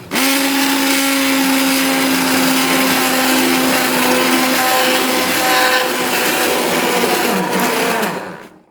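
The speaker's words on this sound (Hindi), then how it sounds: "अब मैंने इसको ग्राइंडर से इसका पेस्ट बना लेना है।" An electric grinder blending khoya into a paste whirs loudly and steadily for several seconds, then spins down to a stop at the end.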